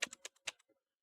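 Several quick keystrokes on a computer keyboard in a sim-racing setup, a short burst of close clicks that fades into silence.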